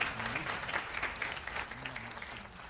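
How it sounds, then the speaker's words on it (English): Warm applause at an IEC-AFRC tenth anniversary event in honor of the KBC Choir, a moderate, somewhat distant clapping that fades slightly toward the end. "I'd like us to put a warm round of applause once again to the KBC Choir"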